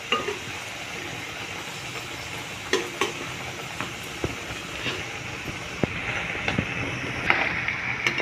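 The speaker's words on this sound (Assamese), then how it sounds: "এনেকৈ ৰঙচুৱা হোৱালৈকে এয়া মই ভাজি ল'লোঁ" Assamese ghila pitha frying in hot oil, a steady close sizzle running throughout with scattered small pops and crackles, no talking.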